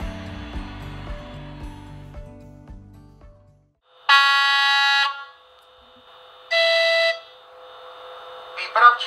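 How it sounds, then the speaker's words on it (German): Sampled sound from a PIKO H0 S499.1 electric locomotive model: a low mechanical drone fades out, then two loud sustained horn-like blasts and a short final toot. "Der Sound wurde natürlich an Originalmaschinen aufgenommen und aufwendig von den Pico-Experten gesampelt"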